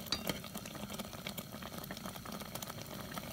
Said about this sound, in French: Et je continue à touiller de l'autre main parce que ça risque de coller à mon avis.